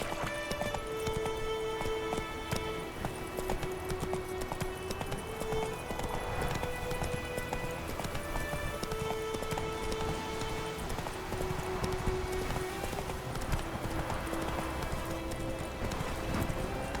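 Roach the horse gallops in The Witcher 3, a steady rapid clip-clop of hooves running continuously with game music and ambience beneath, no talking over it.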